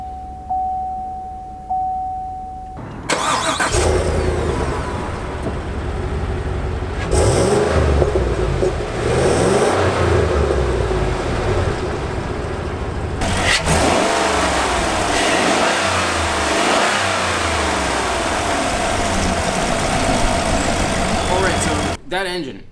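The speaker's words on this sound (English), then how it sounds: "he's going to start up the engine here" A 2017 GMC Yukon Denali XL with a 6.2-liter V8 cranks and catches, then rises and falls through several loud revs before settling toward idle, with people talking over it.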